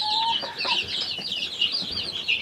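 Chickens, including grey hens, cluck and murmur in a farmyard in a steady run of short calls, close and fairly loud, with a few sharper chirps and no talking.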